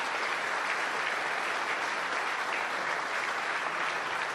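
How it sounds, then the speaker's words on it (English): Union workers in Windsor fill the space with steady, dense applause for their bargaining team, a loud continuous wash of many hands clapping with no break and no voices standing out. "Let's give them a huge round of applause."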